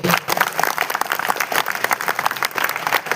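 An audience at a kavi sammelan poetry recital held by a Ramlila chariot breaks into vigorous applause. Dense, rapid clapping from many hands, loud and sustained across the whole stretch with no voices over it.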